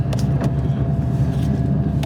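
An LS1 V8-swapped BMW Z3 on 275 rear tires accelerates hard with a loud, steady, deep engine roar filling the cabin, the rear tires breaking loose under power.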